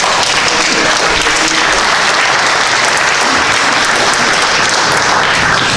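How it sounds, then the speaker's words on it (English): A crowd at a town meeting applauds steadily throughout, dense clapping holding at a constant loud level with no pauses. "I'd like to give you all a round of applause"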